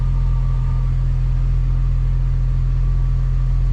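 A BMW with an N54 engine running steadily, a low, constant droning hum with a faint higher whine on top, even and unbroken throughout with no voices.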